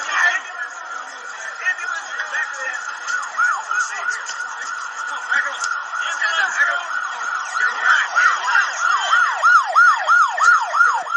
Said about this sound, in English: Let the ambulance in here.